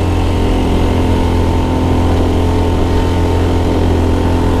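An electric-converted Honda Beat motorcycle climbs a steep hill with a steady, constant motor drone and road noise, loud and continuous throughout.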